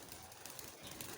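Pigeons moving up onto a rooftop in turns give off soft, low cooing over a steady faint background hiss, with no other clear sounds.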